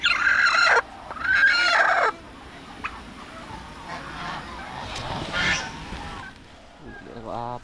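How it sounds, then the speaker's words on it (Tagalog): Turkeys gobble in loud, rapid warbling bursts up close, followed by quieter clucks and birds shuffling, then another short gobbling call at the end. "Pabo."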